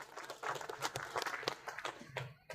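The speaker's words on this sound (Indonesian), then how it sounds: "Tepuk tangan untuk kita semuanya." Scattered clapping from the crowd at an Indonesian inauguration ceremony for an integrated waste processing site, uneven and moderately faint, with sharp claps standing out and a brief drop near the end.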